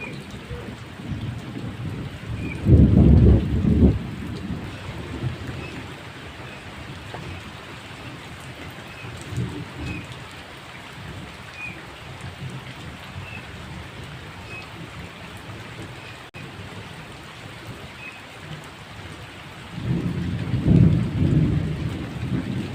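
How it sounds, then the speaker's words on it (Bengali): Heavy rain pours down after a spell of hot weather, a constant loud wash of drops broken by deep rolling thunder near the start, a fainter rumble in the middle and another heavy roll near the end. "বৃষ্টিটা আবার শুরু হয়েছে জোরে"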